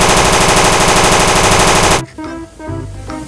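Loud, rapid automatic gunfire from a toy M4 gun rattles continuously for about two seconds, then cuts off, leaving a few softer clicks and mechanical noises.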